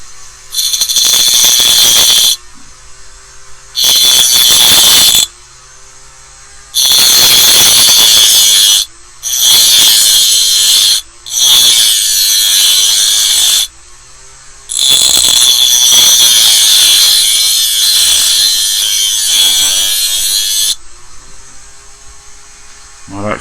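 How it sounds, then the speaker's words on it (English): Power grinder cutting a piece off a Corgi 207 Standard Vanguard III die-cast model car, loud shrill bursts in six separate passes of a few seconds each, with short pauses between them. "I'm going to go ahead and try and grind that piece off."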